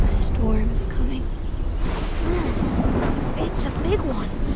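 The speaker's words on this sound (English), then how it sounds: "A storm's coming." Thunder from an approaching storm rumbles low and continuous in the video game The Medium, with a few sharp crackles on top and a voice speaking over it.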